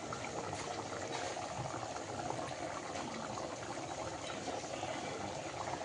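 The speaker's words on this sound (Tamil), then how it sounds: "இப்போ குழம்பு நல்லா கொதிச்சிட்ருக்கு" Chicken curry bubbling at a steady rolling boil in a pot, a dense continuous gurgle with no talk.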